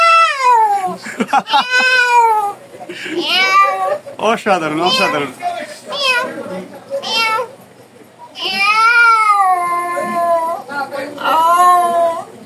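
A voice mimics a cat, giving a string of drawn-out meows and yowls, close and loud, with brief speech between the calls and a short pause before the imitation picks up again.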